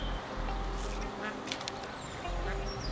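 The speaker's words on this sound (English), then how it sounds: "I wish these ducks would go away." Ducks quack near a city pond where trout are being fished, a few calls in short bursts close by, mixed with voices talking and outdoor background noise.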